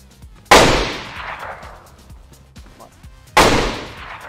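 Two loud, sharp gunshots in DayZ, spaced about three seconds apart, each ringing out with a long echoing decay over quiet surroundings.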